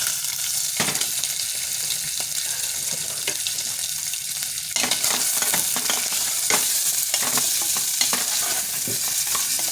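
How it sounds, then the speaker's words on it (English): Mirepoix vegetables frying and being stirred in rendered pork fat in a pan, a steady close sizzle broken by repeated scraping stirs and clatters, loud throughout. "A quick mirepoix to add to our rendered pork meat."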